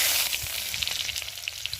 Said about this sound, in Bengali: এখন কড়াতে তেল দিয়েছি আর এখন দিয়ে দেবো পেঁয়াজ